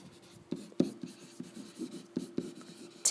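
A pen or pencil writes out a number on paper, giving quiet, close scratchy strokes and taps in short uneven bursts with no talking.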